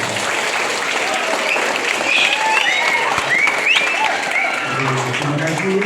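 Applause from the congregation at a school-year opening Mass, a dense steady wash of clapping filling the room throughout, with a few voices calling out over it.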